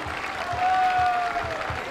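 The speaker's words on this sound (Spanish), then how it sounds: "Le vamos a brindar otro fuerte aplauso." An audience at a school dance gala claps steadily, a dense wash of applause over a low rhythmic thump, loud and sustained without speech.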